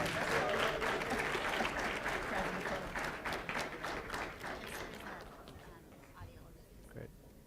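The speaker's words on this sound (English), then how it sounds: "let's give a round of applause for our presenters" Audience applause for a group of presenters, loud and sustained clapping from a crowd that gradually thins and fades out, leaving a few scattered claps near the end.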